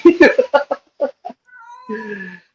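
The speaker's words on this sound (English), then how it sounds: "The cat." A cat meows with a drawn-out, wavering call, heard right after a burst of nearby voices talking.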